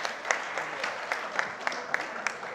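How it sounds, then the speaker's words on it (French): A small audience claps for the winner of a rock-paper-scissors game, steady moderate applause with a few sharper individual claps standing out at irregular intervals. "On peut l'applaudir bien fort."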